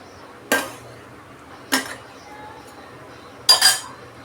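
Metal pot lid clinks onto a pot of okra curry cooking on a gas stove, three separate sharp clanks spaced about a second apart over a low steady background hum.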